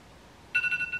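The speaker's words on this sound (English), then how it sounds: "That's my alarm." A phone alarm starts ringing halfway through, a close, bright two-tone electronic trill that pulses quickly over a quiet room.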